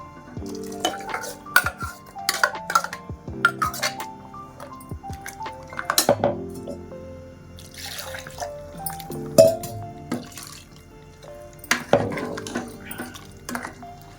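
Ground masala paste of chili powder, sambar powder and tomato scraped into a pot of country chicken sambar, a series of close spoon clinks and wet plops against the vessel, no talk.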